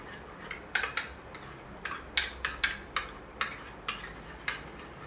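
Cucumber raita with salt and pepper powder being stirred in a bowl, a spoon giving sharp, irregular clinks and taps against the side, about a dozen distinct hits spread over a few seconds, close and fairly quiet with no talk.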